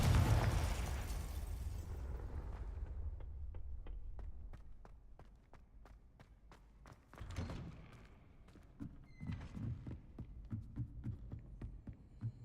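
Confringo fire spell in the video game Hogwarts Legacy, a booming explosion that fades into a low rumble, followed by a run of short clicks and a softer burst with crackling.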